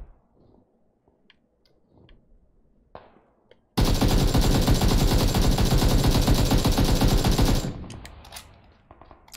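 Sustained automatic AKM rifle fire in a video game, a loud dense burst of rapid shots lasting about four seconds at close range to a box, with quieter clicks and handling sounds before and a fading tail after.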